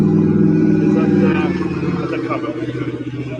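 Race car number 37 on the start hill of a race, its engine giving a loud, rough, droning roar close by that eases slightly toward the end, under a background of crowd babble.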